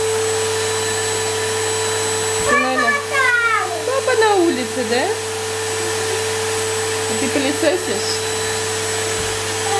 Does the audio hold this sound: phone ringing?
no